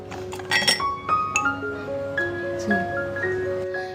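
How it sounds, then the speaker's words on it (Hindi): A small glass tea cup is handled, giving several bright clinks and ringing pings that decay over a few seconds, close and fairly clear against a quiet room. "ये कांच का है और इसमें चाय पीने के लिए अच्छा है"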